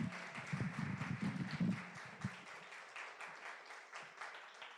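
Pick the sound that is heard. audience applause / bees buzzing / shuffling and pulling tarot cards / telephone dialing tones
audience applause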